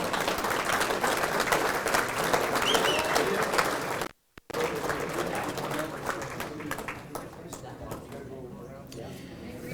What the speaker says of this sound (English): Nice round of applause for all of these gentlemen.